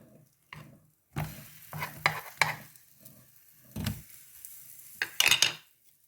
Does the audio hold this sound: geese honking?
no